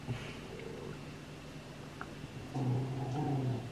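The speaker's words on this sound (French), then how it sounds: "Elle est en train de grogner parce que Propro vient de rentrer." A dog growling faintly indoors, a low rumbling grumble that swells louder near the end, with no talking over it.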